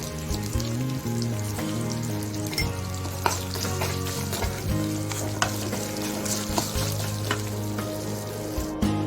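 Sliced onions with salt fry hard in a pan for ridge gourd chutney, a loud close crackling sizzle with stirring scrapes throughout, steady tonal sounds running underneath and no talking.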